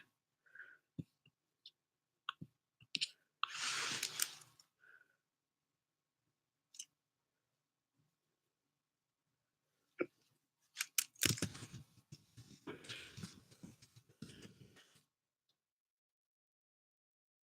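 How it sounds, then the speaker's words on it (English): Scattered keystrokes and irregular clicks come in sparse bursts from a keyboard, followed by a denser flurry of faster typing with quiet pauses between, all close and fairly soft. "I'm typing something out for my club."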